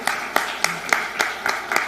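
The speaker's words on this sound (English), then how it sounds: "a big applause to all those kids" A few people clap in a steady, evenly spaced rhythm for children at a yoga and creative arts academy graduation day, with sharp, close, moderately loud claps and no voices.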